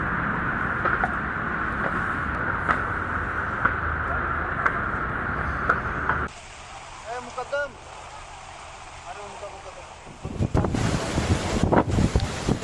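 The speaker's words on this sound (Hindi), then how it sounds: "देखिए किस तरह से तेज हवाओं के साथ अभी भी बारिश का दौर जारी है।" A strong wind and rain storm in Vasai, Mumbai roars and buffets the microphone in heavy gusts, with a voice talking over part of the storm noise.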